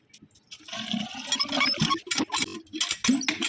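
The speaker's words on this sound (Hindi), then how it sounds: "अब इसमें पानी डालते हैं" Water poured into a hand pump to prime it after the valve was changed, a steady gushing, splashing flow with gurgles that lasts several seconds, close and fairly loud, with no voices.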